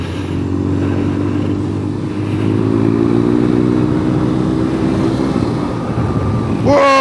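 A motorcycle engine revs up hard and pulls past a KTM 990 motorcycle on a dusty road. The engine note climbs steadily and stays loud and close throughout, with wind rush underneath.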